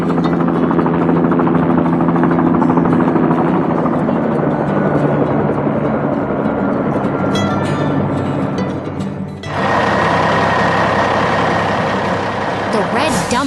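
A red dump truck engine from a 3D cartoon about building an airport runway rumbles loudly and continuously, with a heavy low drone that shifts to a brighter revving tone partway through.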